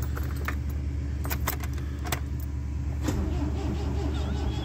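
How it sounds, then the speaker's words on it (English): An Austin Ital on full choke: keys jangle in the ignition for several seconds, then the engine catches near the end and settles into a steady idle, close and moderately loud, with no talking. "Of all the cars, the Ital starts on the button."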